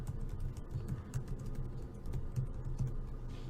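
Steady typing on a computer keyboard, a run of quiet close key clicks in an irregular rhythm with no talking.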